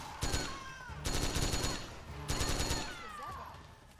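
M4 rifle fire in Metal Gear Solid 4, heard as two loud bursts of rapid automatic shots separated by a short pause, with shell and echo clatter between them.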